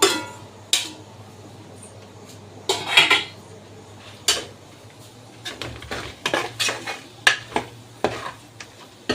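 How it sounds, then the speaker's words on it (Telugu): A spoon scrapes and clinks against a pan while fried chicken pickle is mixed with oil, in irregular close bursts of metallic clatter with no talking. "ఈ మొత్తం ఒకసారి అయితే మనం కలుపుకొని మనం ఫ్రై చేసుకున్న చికెన్ ఉంది కదా"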